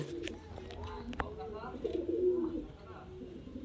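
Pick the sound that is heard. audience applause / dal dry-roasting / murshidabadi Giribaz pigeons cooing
murshidabadi Giribaz pigeons cooing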